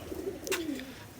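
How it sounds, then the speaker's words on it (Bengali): A pair of imported magnet pigeons gives one short, low, gliding coo, with a brief sharp click in the middle and quiet background otherwise. "ম্যাগনেট পায়রা বলা হয়"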